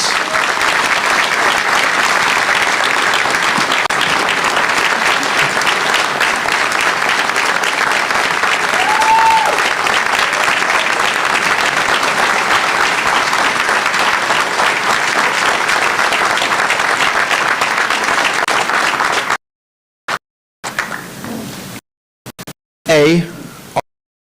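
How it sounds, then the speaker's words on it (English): Sustained audience applause at a Philadelphia town hall hosted by the mayor after a plane crash, steady dense clapping for about twenty seconds before cutting off, with brief fragments of speech near the end. "So please join me in giving them a round of applause."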